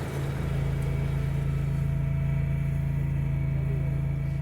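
A Dingo TX 420 walk-behind front-end loader runs steadily nearby, its small engine holding a constant droning hum with a strong low tone and no breaks.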